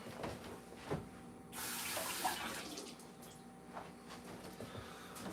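A kitchen tap runs over a grapefruit being rinsed, a steady close hiss of water that swells louder for a couple of seconds midway, with small clinks and splashes around it and no talking.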